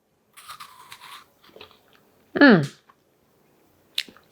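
Crunchy keto meringue bitten close to the mic, one loud sharp crunch standing out among a few softer clicks and small crackles.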